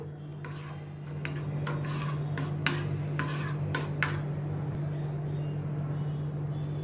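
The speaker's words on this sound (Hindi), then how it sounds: "चिली फ्लेक्स डाल के थोड़ा मैं मिक्स करती हूँ।" A spoon or whisk mixes chili flakes into an egg-based omelet pizza mixture in a bowl, making a run of quick rhythmic clinks and scrapes over a low steady hum, close and moderately quiet.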